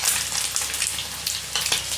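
Fish pieces for a fish pickle frying in oil over medium heat: a steady, close sizzle with crackling spits throughout, no talking.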